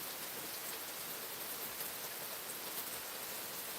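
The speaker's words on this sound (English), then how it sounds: "We just sitting here watching it rain" Steady rain falls on a Sunday morning, a dense, even hiss of drops on surfaces continuing without pause.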